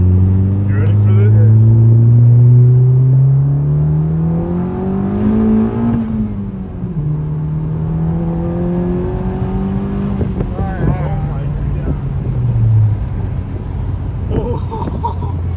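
A 10th-generation Honda Civic with a PTP turbo inlet blanket, running on pump gas, accelerates hard in second gear. The loud engine note climbs steadily in pitch inside the cabin while excited voices talk over it.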